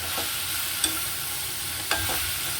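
Okra stir-fried with onion and tomato in a pan over low heat, a steady sizzling hiss with a couple of sharp spatula scrapes and light clinks, close and continuous.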